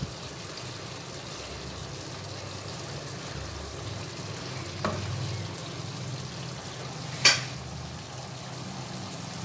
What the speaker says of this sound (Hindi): इसको फ्राई करते रहना है चिकन को।